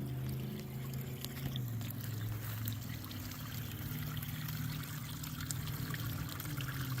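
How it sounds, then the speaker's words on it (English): Steady trickling and pouring water runs continuously over a small pond dam overflow at close range, a gentle wash of flow with a low hum beneath it. "I hear water running."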